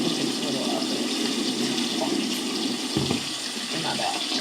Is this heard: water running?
yes